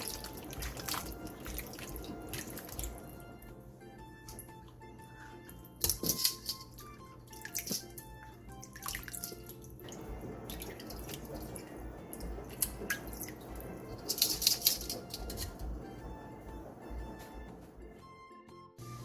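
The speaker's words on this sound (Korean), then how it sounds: "다 절여진 오이는 찬물에 헹군 뒤 물기를 빼놔주세요." Rinsed salted cucumbers drain in a kitchen, giving quiet scattered drips and trickling water with small clinks, close by and fairly faint, with no voices.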